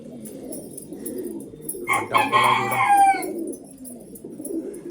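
Pigeon pairs settled in breeding boxes, low murmuring coos throughout with a louder bright burst of calls in the middle, someone talking briefly alongside.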